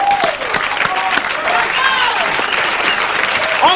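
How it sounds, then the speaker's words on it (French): A French television studio audience applauds loudly in sustained clapping, with whoops and cheers rising over the crowd throughout. "On applaudit très fort."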